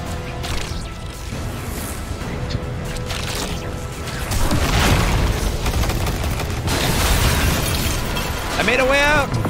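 Bombs going off in Destiny 2: Lightfall, heavy booming blasts and crashing debris rolling through the mix, loud and sustained, with voices talking over parts of it.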